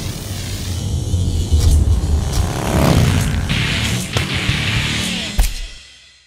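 Motorcycle setting off for a ride on the road: a steady engine rumble with wind noise that swells as it pulls away, fairly loud and close, then drops off sharply at the end.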